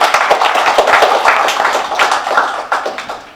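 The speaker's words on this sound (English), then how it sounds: "So can we give a round of applause for all the volunteers behind tonight?" Dense, steady applause from a crowd honoring volunteers at a community iftar gathering, rippling with many overlapping claps for a few seconds and then tapering slightly at the end.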